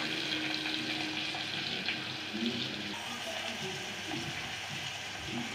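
Onions and chillies fry in a pan with a loud, steady sizzle and occasional stirring, a busy hiss that carries on without pause.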